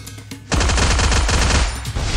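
Rapid automatic gunfire bursts loudly in the Garena Free Fire battle royale game after a brief quiet moment, a dense close rattle lasting over a second and a half with no voices.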